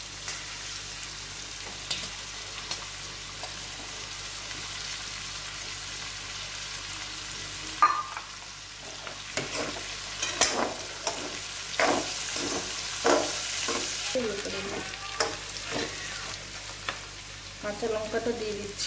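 Onions go into a hot pan with peas for a mixed potato, egg and cauliflower bhujia, sizzling quietly at first, then louder with repeated scraping and stirring clatter.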